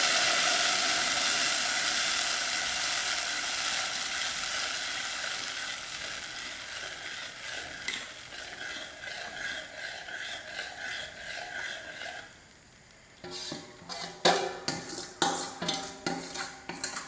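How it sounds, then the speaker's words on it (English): Halwa flour is stirred in a hot pot, a continuous rough scraping and sizzling wash that eases off midway, followed by a run of quick, distinct spoon scrapes and knocks against the pot. "gradually I'm going to add in my halwa flour and continue stirring"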